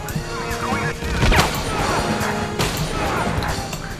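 Rapid gunfire in a Dreamcast light-gun shooting game, a dense loud stream of crashing shots and impacts with game music and effects layered underneath, continuous over a few seconds.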